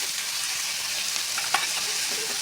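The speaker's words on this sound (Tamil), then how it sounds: "பாருங்கள், வெங்காயம் நல்லா வதங்கி வந்துட்டுருக்கு" Onions sautéing in a pan for vegetable pasta, a steady bright sizzle with a few scraping stirs, close and continuous with no talk.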